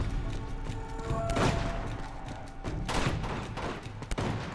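Scattered gunfire in an Uncharted 2: Among Thieves firefight at a monastery, with several shots and dull impacts popping over a constant rumbling background, moderately loud and a bit distant, without speech.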